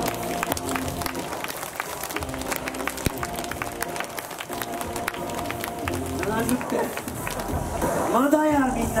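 An outdoor crowd at a nighttime monster dance show at Universal Studios Japan claps along, brisk scattered applause under an amplified host's voice and music, swelling louder near the end.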